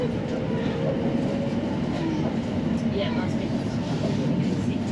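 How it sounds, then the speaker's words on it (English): A Lea Valley Line train bound for Chingford runs steadily on the rails with a continuous rumble and faint clatter, heard from inside the carriage at an even level with no break. "This is the train to Chingford."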